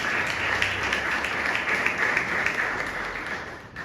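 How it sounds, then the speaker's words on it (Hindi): A congregation gives steady, moderately loud applause during a church sermon, continuous clapping without a break and no speech over it. "जोरदार तालियां उसके जलाल के लिए।"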